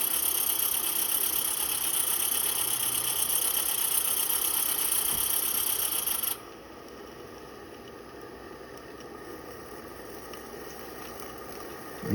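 A newly built engine in a Regner Lumber Jack build idles steadily on its first fire up, a constant hum with loud high hiss that cuts out partway, leaving a quieter steady idle.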